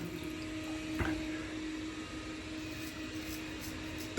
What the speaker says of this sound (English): add water to the water tank,